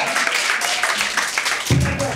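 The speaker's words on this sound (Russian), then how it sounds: "Аплодисменты еще раз." Audience applause at a Russian talk show taping, a dense wash of clapping throughout the short stretch with voices mixed in and a deeper vocal burst near the end.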